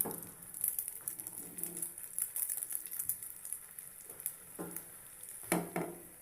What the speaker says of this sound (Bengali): সকাল সকাল নাস্তা রেডি করতেছি। ডিম ভাজি